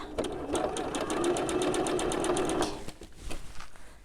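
A sewing machine stitches fabric for a cat-pattern vintage eco bag, a fast steady needle clatter running for a few seconds, then stopping and leaving softer handling noises.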